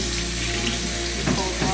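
Items are rinsed under a running kitchen tap, with steady loud water flow and a brief splashing change as something is pushed under the stream near the end.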